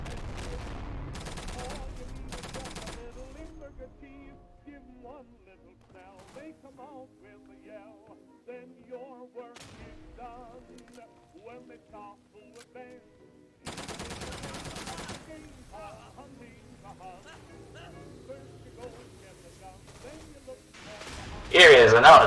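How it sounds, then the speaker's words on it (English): Gunfire and bombardment in the video game Day of Infamy: dense bursts of rapid shots open the scene, a quieter stretch of scattered battlefield noise follows, then another heavy volley and a loud blast at the end. "bombs flying, landing, and gunfire blasting the air around you"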